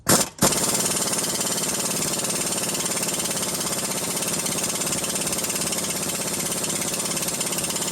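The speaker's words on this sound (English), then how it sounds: "busting out the big guns with the Cornwell 1/2-inch air impact" A Cornwell 1/2-inch air impact wrench hammers on urethane sway bar and control arm bushings of a 1991 Audi Avant 20V, loud and close, with a brief first burst and then a continuous rapid rattling drive.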